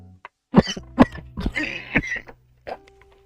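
A close coughing fit of several harsh, uneven coughs and throat-clearing bursts, separated by short pauses.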